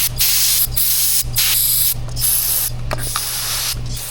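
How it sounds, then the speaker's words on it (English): Aerosol spray hisses in several bursts while replacing O-rings on a Chevy Cruze 1.4 check valve, each a loud broadband rush with brief gaps between, accompanied by a low steady hum. "One more hit with some spray."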